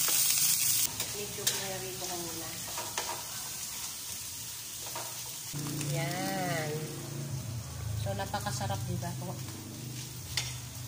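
Ingredients for laing sauté in a hot pan, with a steady sizzle and scraping stir strokes close by. Faint tonal voice-like sounds drift in and out underneath.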